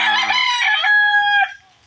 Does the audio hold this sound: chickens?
yes